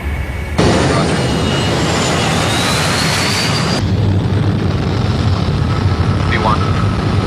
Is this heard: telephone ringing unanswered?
no